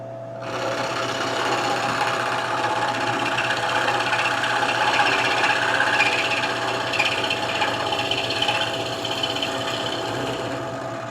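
Metal being cut to shorten one foot of a vise base, a steady continuous rasping grind held at an even, close level for about ten seconds.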